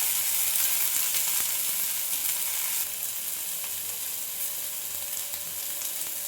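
Ridge gourd fries in a pan with garlic, green chilli and curry leaves, giving a loud, steady hiss of sizzling throughout, slightly softer after a few seconds, with no talk.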